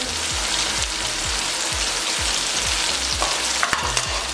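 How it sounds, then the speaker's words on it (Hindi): Mixed vegetables fry in oil with ginger-garlic and green-chilli paste for vegetable pulao, a loud continuous sizzle with regular rhythmic spatula strokes against the pan, heard close and alone. "सब्जी को हमने अच्छे से 2 से 3 मिनट के लिए फ्राई कर लिया है"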